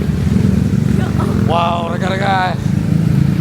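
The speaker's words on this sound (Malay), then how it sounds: "dia pun naik motor." A motorcycle engine hums steadily as it rides up a mountain road toward the Wang Kelian viewpoint, a low continuous drone under close voices talking.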